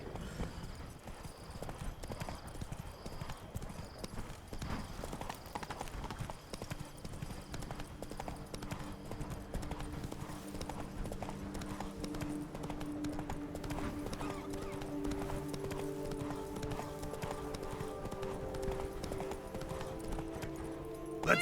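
Galloping hooves of a horse in The Witcher 3 video game, a steady rapid clip-clop running throughout at a constant loud level, with game music rising beneath it.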